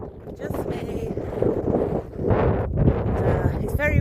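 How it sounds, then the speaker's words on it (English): Strong outdoor wind buffets the microphone on a run, giving a constant rough rumble with gusts that swell and fade. "it's very windy, so apologies if you can't hear me"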